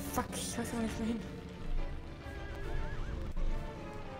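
A horse in the video game Shadow of the Colossus whinnies, then its hooves clip-clop over a backdrop of game ambience, with fainter sounds following.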